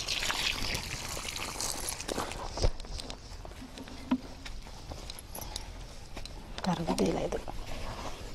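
Water is poured into coco peat and worked in by hand at a self-help group plant nursery in Ramanagar, giving soft wet rustling, scraping and trickling with a few dull thumps, while voices murmur in the background.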